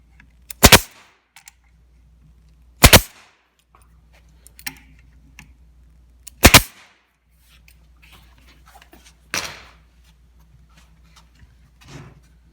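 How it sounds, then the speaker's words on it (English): Staple gun firing into cabinet parts during assembly: four sharp, loud snaps spaced a couple of seconds apart, with softer handling clicks and taps between them in a quiet room. "Then I'm gonna push this back down and I'm gonna staple here."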